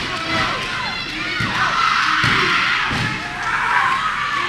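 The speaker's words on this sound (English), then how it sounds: "Sean with the elbow drop." An elbow drop lands with a heavy thud on the mat at a tag-team wrestling match, set amid a loud, continuous crowd roar with shouting and several further thumps across the clip.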